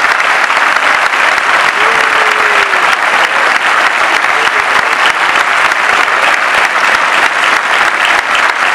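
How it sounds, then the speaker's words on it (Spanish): Large concert audience claps steadily and loudly for the sound crew, dense sustained applause filling the whole stretch, with a faint voice briefly audible underneath. "quiero que le den un fuerte aplauso a Sonocom"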